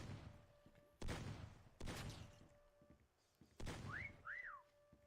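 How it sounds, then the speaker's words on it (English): Whistling in the video game Meccha Chameleon: two short rising-and-falling whistled notes near the end, after a few sharp thumps and bursts of game noise. "It was a bad time to whistle"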